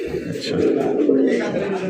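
An Andalusian pigeon coos close by in a low, continuous rolling murmur that lasts the whole moment, with faint background noise around it.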